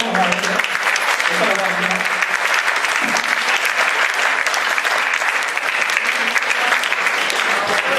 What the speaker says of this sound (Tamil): ஒரு பலத்த கரகோஷம் கொடுங்க